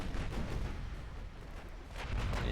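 Naval guns of battlecruisers fire in Ultimate Admiral Dreadnoughts, a dense, continuous rumble of overlapping distant gunfire that holds steady and swells again near the end.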